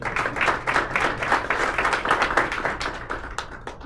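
A small audience at a university engineering design class final project event applauds steadily, many hands clapping together in a dense, even patter at moderate distance with no voices over it.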